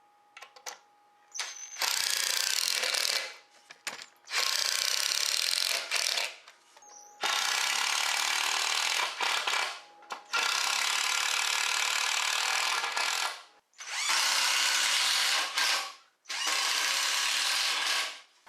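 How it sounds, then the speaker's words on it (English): A power drill drives screws through 34-inch wooden cross members into 2x3 lumber while a garage workbench is built, with six loud bursts of several seconds each separated by short pauses and no speech. "Now I'm going to be screwing the 34 inch cross members on the inside of these 2x3s"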